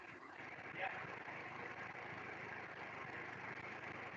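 A car engine idles steadily during a hands-on lesson on MAP sensors, with the check engine light on, giving a constant broad hum with no revving throughout.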